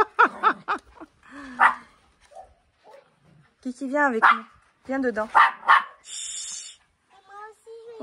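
A pet dog gives a few short yips and whimpering barks at home, near and intermittent, between bursts of people talking to it.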